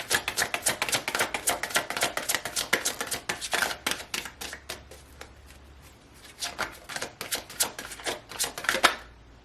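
A deck of tarot cards is shuffled in a steady run of dense, crisp riffling flicks, pausing briefly midway before another burst of rapid card snaps; close and fairly loud, with no talking.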